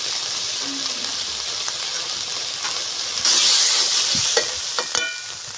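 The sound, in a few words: frying spices in mustard oil for fish curry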